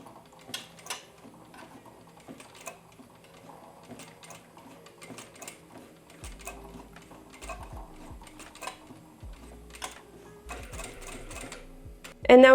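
A sewing machine stitches a parallel line along a quilted bucket bag, with light rapid mechanical ticking and rattling throughout, then a sudden louder burst of running at the end.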